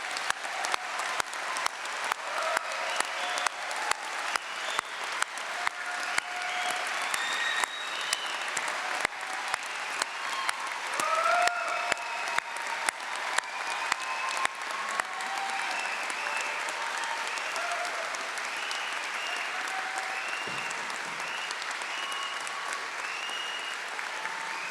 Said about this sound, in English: Let's have a round of applause for these outstanding scholars.